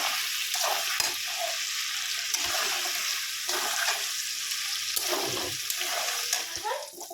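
Chicken pieces frying in a pan give a steady, hissing sizzle with occasional spatter and scrapes of stirring, fairly close and moderate in level, with no speech over it.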